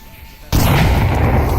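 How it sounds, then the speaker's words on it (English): A frag grenade goes off in the VR shooter Onward during a competitive league match: one sudden loud broadband blast that cuts in abruptly after a quiet stretch and stays dense and roaring to the end, with no voice over it. "Landon goes down to a nice frag grenade from the one and only Raphael"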